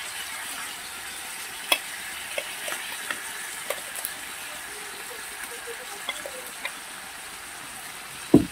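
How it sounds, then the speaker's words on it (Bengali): Chicken pieces with ginger-garlic paste sizzle steadily in a pan, close and moderately loud, with a spoon scraping and clinking in occasional sharp stirring knocks. "দিয়ে ভালো করে মাংসের সঙ্গে কষাতে হবে"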